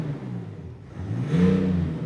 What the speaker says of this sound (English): There isn't many diesel engines out there that can produce that sound.